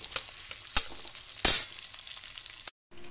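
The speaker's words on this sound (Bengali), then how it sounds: "দিয়ে একটু ভাজা ভাজা করে নিচ্ছি।" Chopped onion fries in hot oil with cumin seeds for a boneless chicken curry, giving a loud continuous sizzle with a few sharp crackles from stirring, then a sudden brief silence near the end.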